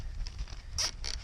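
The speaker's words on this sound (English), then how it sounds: "zip tie it on like that" A Venable zip tie being cinched tight in an outdoor freeze-prep project gives two short, raspy ratcheting bursts, close and fairly loud over a low background rumble.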